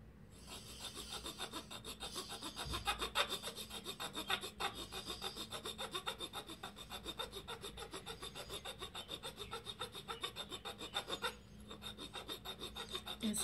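Sandalwood stick rubbed against a grinding stone to make powder, a steady rhythmic rasping scrape repeated continuously at close range with no talking.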